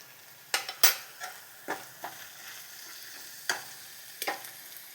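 Onions and tomatoes with ginger and garlic fry in a pan, a soft sizzle under several sharp, irregular clinks and scrapes of a spoon stirring against the metal.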